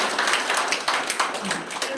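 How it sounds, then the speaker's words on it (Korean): Audience applauding at an environmental organization's annual general meeting, a steady dense patter of clapping filling the room throughout, fairly close and even in level. "다시 한번 박수 부탁드립니다"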